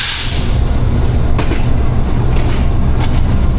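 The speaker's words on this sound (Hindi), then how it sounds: "अल्लाह अल्लाह करके लाहौर जंक्शन पहुंच रही है जी हमारी ट्रेन" The Pak Business Express rolls into Lahore Junction with a loud, continuous rumble of wheels on track and faint rhythmic clatter from the carriages, heard up close from on board.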